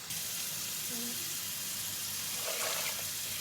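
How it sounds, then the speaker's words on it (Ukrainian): Water is poured into a pot set on a lit gas stove in a home kitchen, a quiet steady trickling and splashing heard close by with no talk. "Газ запалили і налиємо водички"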